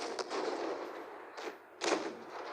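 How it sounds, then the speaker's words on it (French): Booming shell impacts from a KV-2 tank in the World of Tanks Blitz game, with a couple of heavy hits rising over continuous battle noise. "Laisse prendre une balle du KV2"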